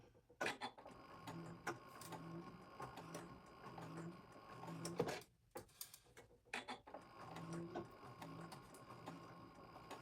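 A sewing machine stitches a bone-shaped neck pillow in rapid rhythmic bursts of needle clatter, pausing briefly midway before resuming with the same close, busy mechanical ticking.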